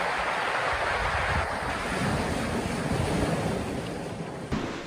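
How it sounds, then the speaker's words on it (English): Ocean swell surges and roars through a sea cave at high tide, a loud, continuous broadband wash with wind buffeting the microphone and no clear breaks. "When the tide's up, it's absolutely full when the swell comes powering through here."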